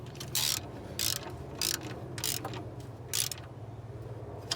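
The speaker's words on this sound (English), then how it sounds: "start tightening from the middle, and you don't want to crank down at all. Just snug a little bit." Ratchet tightening the starter bolts on a Honda Accord, with a series of about six short clicking bursts at an uneven rhythm, close and moderately loud over a low background hum.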